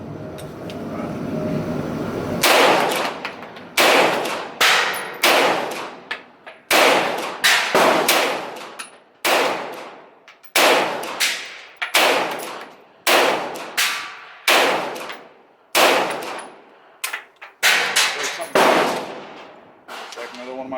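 Stribog SP9A1 pistol-caliber carbine firing hand-loaded rounds, roughly fifteen sharp, loud close shots at a steady pace of one every second or so, each ringing off with a metallic clang from the target.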